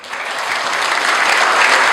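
Audience applause at a Q&A session with top earners, swelling quickly from the start into loud, steady clapping for two seconds.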